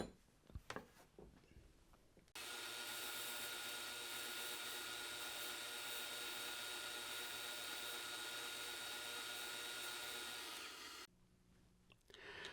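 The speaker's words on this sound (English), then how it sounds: "I'm just going to go to my sander and just sand that off very carefully" A power sander sands off a cut wooden arc in a woodworking shop, starting abruptly and running as a loud, steady whine for about nine seconds before cutting off.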